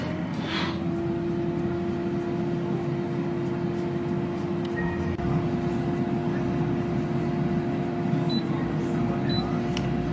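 A CHEFREE AFG01 grill air fryer cooking skewers runs with a constant whirring fan drone and a steady hum, loud and unchanging across the whole stretch.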